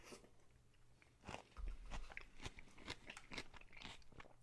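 Crunchy bites and chewing of month-fermented lemon chunks with ginger and turmeric, a series of close, crisp crunches and wet chewing sounds in a quiet room.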